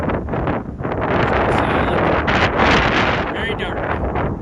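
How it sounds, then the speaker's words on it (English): Strong wind gusts buffet the microphone beside an iced-over Sucker Bay on Leech Lake, a loud roaring blast that rises and falls in waves, with someone talking over it. "Wind's coming right in, obviously,"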